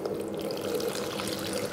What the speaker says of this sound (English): I'd like to top this up with 1 liter of pure water that has no dissolved minerals in it